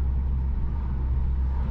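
A Volkswagen Scirocco R with stage 2 tuning, running hot, rumbles steadily through its twin large exhaust outlets, a deep, even drone that holds at constant loudness for under two seconds with no talking over it.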